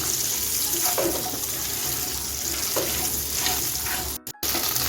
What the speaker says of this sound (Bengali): এখন গ্যাসটা মিডিয়ামে রেখে আমি চারিদিকে পাঁচ মিনিট ভেন্ডিটা ভেজে নেব